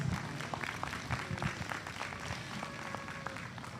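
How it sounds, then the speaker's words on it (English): A rodeo crowd applauds children at a breeding-heifer show in the East Ring, with scattered, fairly quiet claps from a modest audience and some sharper individual claps standing out against a distant, roomy background. "let's give all these kids a big round of applause"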